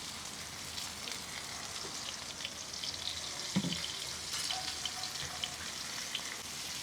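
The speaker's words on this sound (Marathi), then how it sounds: "पापलेट हा पण तेलात देऊ सोडू थोडं तेल टाकते" Rice-flour-coated pomfret frying in oil on a flat tawa, a steady close hiss of sizzling fat with a few brief louder crackles and bubbling spurts partway through.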